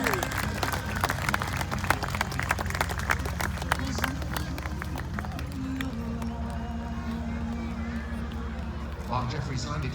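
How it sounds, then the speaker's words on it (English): Audience clapping at an outdoor night airshow of model and full-size aircraft, a steady crowd applause under continuous loud engine drone and announcer-style speech, fading slightly midway. "give a round of applause"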